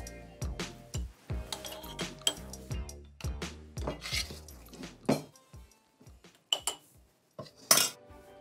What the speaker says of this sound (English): All you need to do is spoon it into your ramekins now.